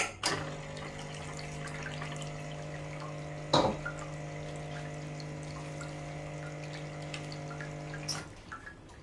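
Water rinse through a Lelit Mara X espresso machine: a steady pump hum with running water for several seconds, broken by a couple of sharp clicks and clunks, close and fairly quiet.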